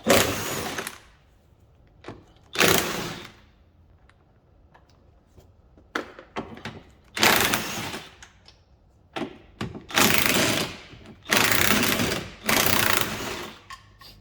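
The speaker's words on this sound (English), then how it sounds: "And now with the 17mm impact, let's remove these nuts." A 17mm impact wrench takes nuts off an Alfa Romeo 147/156/GT top wishbone in a garage, sounding as about eight loud, close rattling bursts of a second or so each, separated by short quiet gaps.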